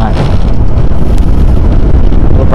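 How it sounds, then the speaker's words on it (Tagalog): Strong wind blasts the microphone outdoors at a peaceful spot in Garcia-Hernandez, Bohol, a loud constant low rumble and buffeting that dominates throughout. "Saglit, mahangin talaga."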